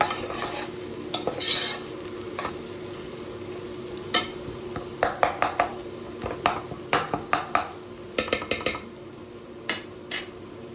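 Onion and tomato fry in a pan for a goat head mutton curry, a steady sizzle broken by repeated sharp clinks and scrapes of a spoon stirring against the metal, close and without speech.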